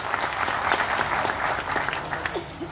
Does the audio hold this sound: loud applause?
yes